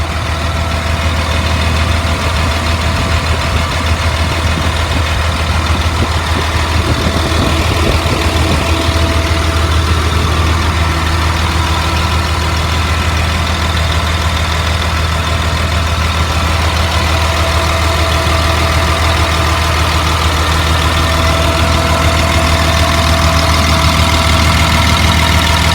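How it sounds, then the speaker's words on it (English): A 2003 Blue Bird All American 72-passenger school bus engine idles after running about an hour, a steady loud low diesel drone with a faint knocking texture, no talk. "the motor's been running for about an hour"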